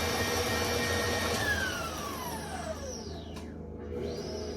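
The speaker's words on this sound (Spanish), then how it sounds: "le vamos a bajar la velocidad a lo más menos que pueda batir tu batidora" An electric hand mixer set to its slowest speed beats cake batter for a sponge cake, a steady mechanical whir with falling tonal sweeps, alone and fairly quiet.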